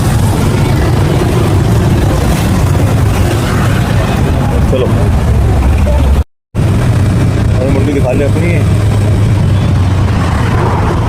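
A scooter riding through the streets of Phuket toward Old Town, with a loud continuous engine drone and wind rumble, a brief dropout midway, and people speaking over it.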